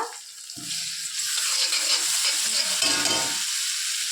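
Garlic paste drops into onions frying in oil, setting off a sudden loud, close hiss that swells and holds as a bright, continuous sizzle for several seconds.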